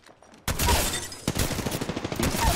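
Automatic gunfire from a gun in an online shooter game erupts after a brief quiet, a loud sustained burst that turns into a rapid rattling rhythm of shots.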